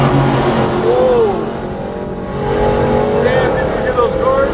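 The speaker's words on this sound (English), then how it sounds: "did you hear those cars?" Cars passing at speed on a Los Angeles freeway, heard through a continuous traffic roar with rising and falling swells as vehicles go by, mixed with faint tonal sweeps and some background voices.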